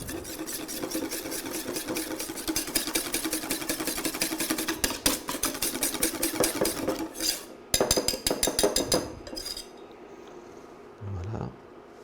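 Pastry cream with custard powder being stirred in a pan, steady dense scraping and clinking of a utensil against the pot, fairly loud and continuous, ending with a few sharper knocks before quieting.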